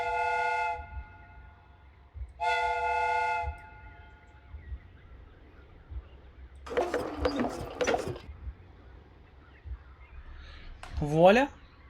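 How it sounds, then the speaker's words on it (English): A steam whistle on a replica train in a Sherlock Holmes game sounds two sustained harmonic blasts with a gap between, followed by clattering mechanical bursts and a rising squeal near the end. "The steam whistle is ready to be used."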